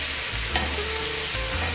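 Steak sizzling and frying in a pan during a home cook amid Hurricane Milton, a steady close hiss with faint clinks, no one talking.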